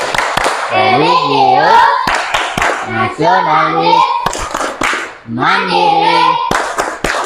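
A group of children in a classroom claps in rhythm while chanting in unison for the Tepuk PPK clap chant. Sharp, repeated hand claps punctuate the loud, close sung voices throughout.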